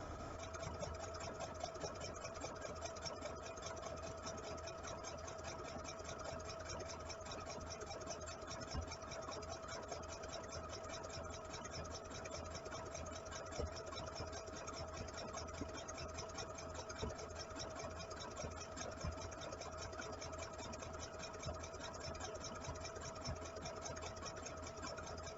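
A sewing machine stitching a raglan nursing t-shirt runs in a steady, close mechanical whir with rapid needle ticking, continuous throughout.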